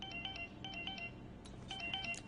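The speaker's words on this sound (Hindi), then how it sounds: "किसका फोन है?" A phone ringtone chimes in short repeating bursts of electronic tones, fairly faint over a low background hum, pausing briefly between rings.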